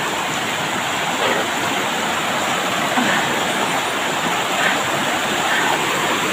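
Creek water rushes steadily over rocks on Burias Island, a continuous close, loud broadband wash with no pauses and no voices.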